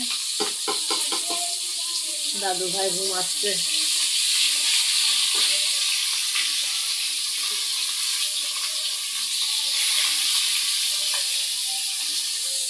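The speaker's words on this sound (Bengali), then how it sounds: "এই যে মাছ ভাজা ফ্রাই হয়ে যাচ্ছে" Rohu fish fries in a pan, giving a loud, continuous close hiss of sizzling oil. A voice speaks briefly over it near the start.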